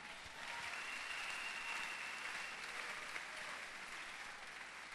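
A church congregation claps steadily together in praise of the Lord, producing a continuous, even wash of applause that is distant and moderately quiet for several seconds.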